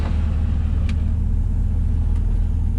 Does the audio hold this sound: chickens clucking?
no